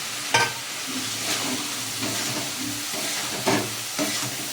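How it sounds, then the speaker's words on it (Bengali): Mixed vegetables and chopped potato fry in a pan for a meat and greens dish, with a steady sizzle under intermittent stirring scrapes and a few louder clatters; nobody speaks. "এবার এই সবজিগুলো দিয়ে দিচ্ছি এগুলো আর আলু কুচি"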